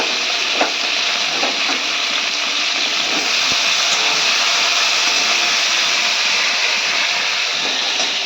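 Potatoes, vegetable stalks, cumin and grated ginger frying in a pan: a loud, steady hiss of sizzling oil with a few faint stirring scrapes, close and constant, no voices.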